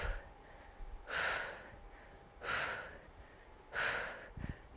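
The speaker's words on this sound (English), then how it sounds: "Breathing." Three forceful, breathy exhales come about once every second and a half during a seated HIIT workout with weights, close to the microphone over a quiet background.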